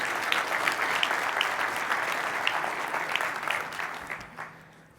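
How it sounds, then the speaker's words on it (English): An audience at a macOS Catalina deployment conference session claps steadily, then the applause fades toward the end. "You can clap for that."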